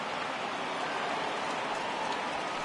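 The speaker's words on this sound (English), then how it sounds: "The rain coming down as it is, we are in for a long delay." Steady rain pours down on a baseball stadium during a game delay, a constant, even hiss of falling water with no talk over it.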